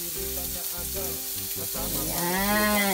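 Pork sizzling in a dry pan with no oil, rendering its own fat, a steady crackling fry that swells louder toward the end, with a brief spoken word over it.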